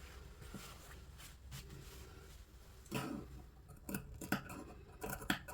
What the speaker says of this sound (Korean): 여기 시접 부분에 가위밥을 한번 주겠습니다